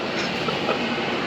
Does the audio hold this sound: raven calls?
no